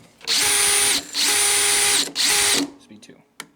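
A DeWalt Xtreme Subcompact 12 volt cordless drill on speed 1 whirs in three steady bursts at a slow, even pitch, stopping briefly between runs, followed by a few faint clicks.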